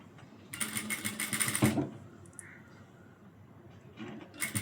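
A sewing machine stitches blouse fabric in a close, loud burst of just over a second, then cuts off into quiet room tone, with a brief second start near the end.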